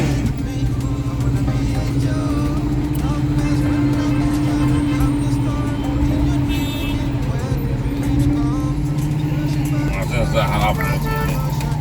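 Steady road traffic with car and bus engines rumbling close by on a street outside a restaurant, continuous and fairly loud, with a constant low drone and a few brief higher tones near the end.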